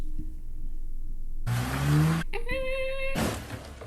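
A person's voice imitates a car braking, with a harsh noisy screech followed by a tonal squealing whine, loud and close, heard alone without other talk.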